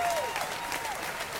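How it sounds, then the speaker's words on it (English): Brief burst of studio audience applause, close and moderately loud, fading slightly over little more than a second. "We'll give you a little bit of an applause for that."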